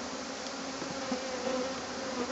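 Honeybees hum in a steady, dense drone around an apiary hive, close and continuous without a break.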